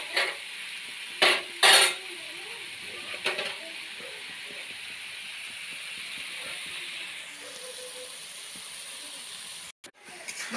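Spice masala sizzles softly in oil in a pan under a steady hiss, broken by a few sharp metallic scrapes and clinks of a utensil stirring against the pan.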